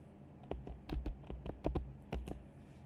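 A school name typed into an online admission form on a computer keyboard, about a dozen crisp key taps in an uneven rhythm, close and fairly quiet with no talking.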